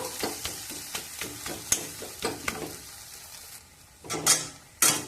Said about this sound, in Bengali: আটা দিয়ে এবার খুন্তি দিয়ে চেপে চেপে ঢেঁড়স মশলা মিশিয়ে নেব